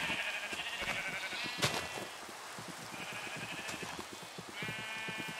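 Sheep bleat repeatedly in the Minecraft video game, several overlapping calls standing out against a steady background of rain-like hiss and rhythmic clicking, with no talking.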